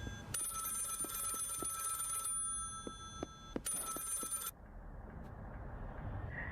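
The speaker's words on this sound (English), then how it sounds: "Yeah, phone call." Two bursts of an electronic telephone bell ring out during a phone call in the horror series The Walten Files, separated by a short gap over a low background hum, with a few soft knocks and no speech.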